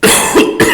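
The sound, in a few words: cough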